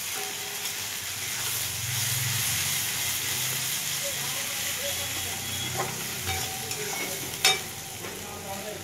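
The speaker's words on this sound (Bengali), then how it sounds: "এটা ভালোভাবে কষাবো" Spices and turmeric sizzle steadily in a hot pan while a spoon stirs and scrapes, a continuous close frying hiss with occasional clinks and one sharp knock near the end.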